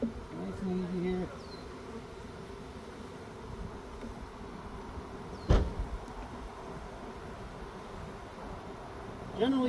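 A steady hum of package honeybees buzzing close by during hive installation, with a sharp knock partway through and brief rustling sounds.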